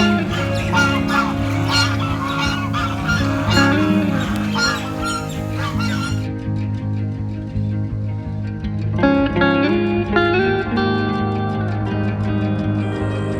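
A flock of ducks at a rural cow shelter in a forest area, loud close quacking and honking calls overlapping in busy bursts, with a brief quieter gap midway before the chorus resumes.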